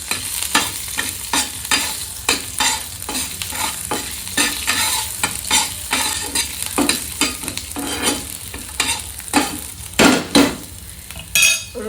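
Chopped garlic sizzling in a pan with spices, a spoon scraping and stirring in quick, uneven strokes over a steady frying hiss, close and clear with no talk.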